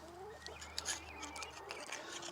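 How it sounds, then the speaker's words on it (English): Chickens cluck and chatter softly nearby, a few short bird calls overlapping in a quiet, low-level background. "Sorry about all the chickens"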